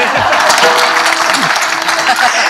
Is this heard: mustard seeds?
no